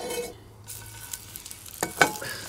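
Meat, a tomahawk steak, searing in a preheated pan, a soft, close sizzle with a couple of sharp clinks of a utensil near the end, no talking.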